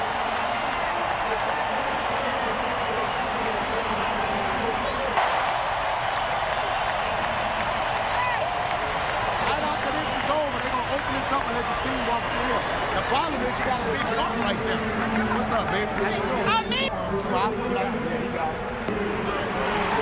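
A large stadium crowd after the New Orleans Saints' 2009 NFC title win roars and cheers continuously, a dense wash of voices, claps and shouts, with talk mixed into the din.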